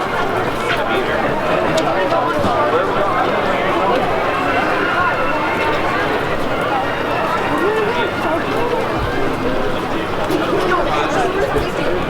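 Crowd of theme park guests waiting at rope drop near Galaxy's Edge, a steady dense murmur of many voices and shuffling that stays loud and constant throughout.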